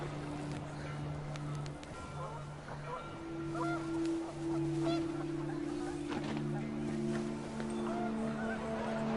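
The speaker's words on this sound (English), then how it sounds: "The wind picked up, and panicked geese appeared and quickly went." Geese honk in a windy outdoor scene of the video game What Remains of Edith Finch, with long sustained calls running through most of the stretch over steady wind and ambient noise.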